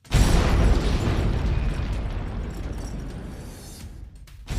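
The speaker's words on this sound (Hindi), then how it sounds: "सिर्फ एक चम्मच TATP एक लैपटॉप पर रखा गया और फिर हुए धमाके में" A spoonful of TATP explosive detonates on a laptop: a loud, sharp blast rings out and rolls into a long, rumbling decay that fades over several seconds.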